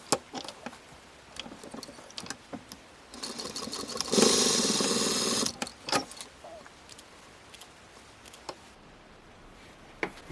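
Sewing machine stitching fabric tabs onto a Japanese noren door curtain: one short burst of rapid mechanical whirring lasting about two seconds, framed by scattered clicks and handling taps of cloth and pins.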